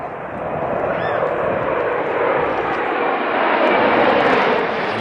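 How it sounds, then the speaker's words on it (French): Alpha Jet aircraft of the Patrouille de France fly over the Saint-Cyr-l'École airfield, a loud, steady, broad jet roar that swells slightly toward the end. "Les Alpha Jets de la patrouille de France font leur apparition au-dessus de l'aérodrome de Saint-Cyr-l'École."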